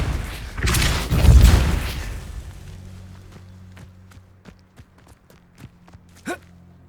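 A Depulso spell in Hogwarts Legacy lands as a loud, booming magical burst with a rumbling tail that fades out. Faint footsteps and small clicks follow.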